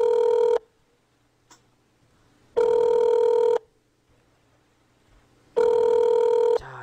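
A telephone rings in three long electronic bursts with quiet gaps between them, clear and close with no one speaking.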